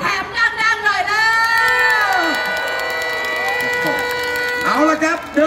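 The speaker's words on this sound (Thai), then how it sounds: "ขอเสียงพี่น้องชาวหนองแขมดังๆได้ไหมครับ" A large crowd of Nong Khaem supporters cheering and shouting at a political rally, sustained loud roar with whoops rising at the start and end, a voice amplified over it.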